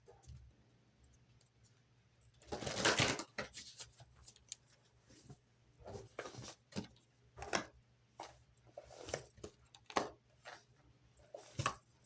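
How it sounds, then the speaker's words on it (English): Tarot cards shuffled at close range in a quiet room: a dense riffling burst followed by a string of soft clicks, taps and card flicks. "One more shuffle."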